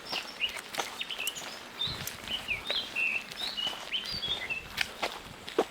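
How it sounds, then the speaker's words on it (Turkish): A small bird sings repeated short, high chirps and trills, fairly close, over soft rustling and patter, with no voices. "Ufacık kuş türü ne güzel ötüyor ya."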